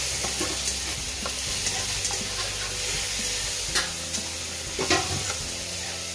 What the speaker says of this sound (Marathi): इथे की नाही वाटण चांगलं परतून झालंय